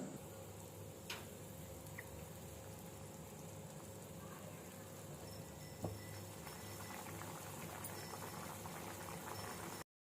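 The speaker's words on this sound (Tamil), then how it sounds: "இப்போ நம்மளுக்கு வந்து இந்த குருமா நல்லா கொதிச்சிடுச்சு." Vegetable white kurma boiling in a pot, a soft continuous bubbling and popping heard close up, with a couple of faint clinks and no talk.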